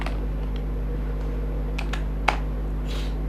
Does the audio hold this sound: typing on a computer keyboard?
yes